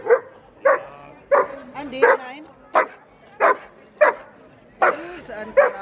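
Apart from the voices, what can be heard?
dog barking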